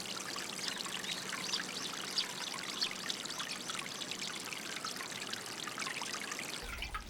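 Water runs steadily through a channel in a rural Japanese village, a continuous close babbling trickle and splash that holds even and unbroken for several seconds, with no voices.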